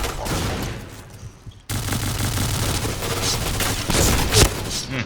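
Rapid automatic gunfire in the shooter game Point Blank, dense loud bursts that stop briefly, then resume with a heavy boom near the end.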